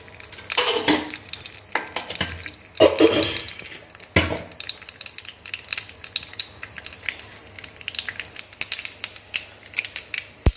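Curry leaves and urad dal hit hot oil for a tempering, giving bursts of crackling sizzle and sharp pops with stirring scrapes, loud at first and then settling into a lighter spatter.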